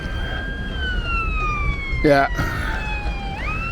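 An ambulance siren wails along a busy Blackpool street on a Saturday afternoon, its tone sweeping steadily under street noise, with a brief spoken word partway through.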